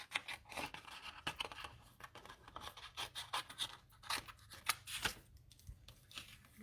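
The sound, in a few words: cutting pieces down for a card-making project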